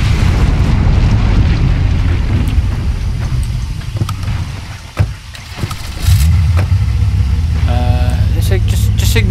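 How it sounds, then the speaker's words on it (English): A car blows up in the video game State of Decay, a loud rumbling blast and burning roar that fills the scene, with a sharp thump near the middle and the rumble building again, while someone talks over it. "Just ignore the explosion behind us, Ed."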